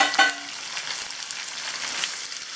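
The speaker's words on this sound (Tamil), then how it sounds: "நம்ம எடுத்து வச்சிருக்க மிளகாயும் இஞ்சியையும் இந்த எண்ணெயில் ஆட் பண்ணிடுவோம்" Green chillies and a piece of ginger drop into hot oil with a brief crackle, then settle into an even, close sizzle that fries on steadily.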